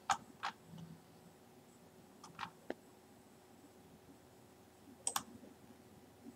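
A computer mouse clicks in quiet bursts while drawing a floor plan in CAD software: a pair of sharp clicks, a few single ones, then another quick double click, all faint and close against a hushed room.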